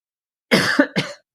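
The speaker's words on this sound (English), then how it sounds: "Hold on, I'm coughing." A couple of sharp coughs close up, a longer rough burst followed by a short second cough, with silence before them.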